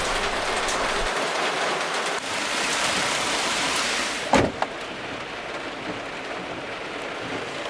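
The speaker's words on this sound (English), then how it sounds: "We've had thunderstorms in the night and this torrential mountain rain." Torrential mountain rain during a thunderstorm in Gorno-Altaysk, a dense, steady hiss pouring down throughout, loud and close, with a brief sharp knock partway through and no one speaking.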